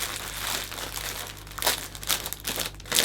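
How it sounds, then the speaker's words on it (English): Cellophane wrapping around a hand-tied Christmas bouquet crinkles softly and closely in short rustling bursts that grow louder toward the end. "And catch the cellophane nicely."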